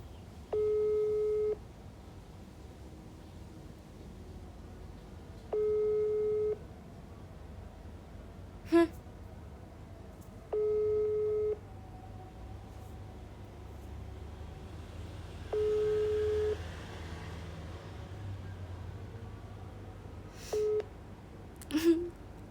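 A phone call goes unanswered with a tone that repeats five times at regular intervals. Each tone is a short, steady beep over a faint hum, and a few quiet clicks fall in between.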